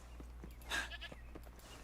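A goat bleats once in the Wuthering Waves video game, a short mid-loud cry rising out of a steady low hum of game ambience, with faint footstep-like ticks around it and no talking.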